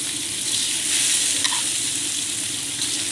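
Rice being stirred in a pan with browned fried onions, giving a steady close sizzle with soft scraping of the stirring, and no voices.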